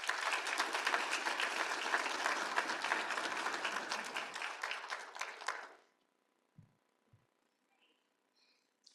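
Audience at a bar association event breaks into sustained applause, dense and even for several seconds before stopping abruptly, followed by a near-silent room with a couple of faint knocks.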